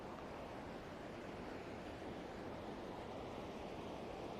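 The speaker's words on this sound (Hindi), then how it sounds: "और पानी का बहाव देखिए आपकी कितना ज़्यादा है" Water rushing into a mountain dam reservoir in Lahaul and Spiti, Himachal Pradesh, fed by large pipes from a river, a steady broadband roar that stays even and unbroken throughout with no voices.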